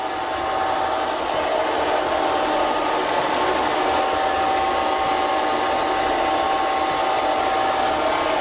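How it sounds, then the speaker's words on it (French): A Liectroux B3000 robot vacuum cleaner runs in cleaning mode with a steady, even whir and a faint high whine. It hums alone, unchanging and close, throughout. "Côté bruit, on est vraiment sur le bruit habituel d'un aspirateur robot."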